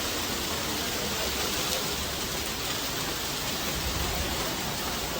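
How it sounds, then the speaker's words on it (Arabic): Steady, dense rain pours down outdoors, a continuous broadband hiss with no pauses or breaks, loud and close throughout, with no voices over it. "قمنا عشان نصور المطر"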